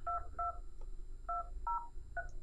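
Touch-tone dialing beeps from an Axioo tablet phone: five short, clean DTMF tones in an uneven sequence, close and clear over a faint low background hum, with no speech.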